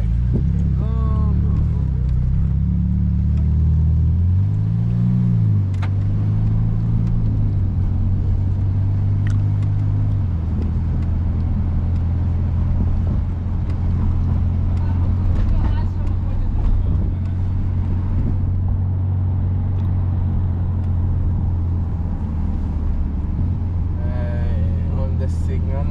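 A Ferrari sports car drives along a road with a steady, loud low engine drone and rumble throughout, and a brief rise in pitch near the start. Faint voices can be heard inside the cabin.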